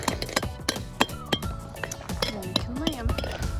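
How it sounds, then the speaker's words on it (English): A chisel struck against concrete retaining wall blocks to knock off imperfections, giving repeated sharp, irregular clinks and taps close by, with voices in the background. "some of these have come with some imperfections that we need to chisel off in order for them to lay flat"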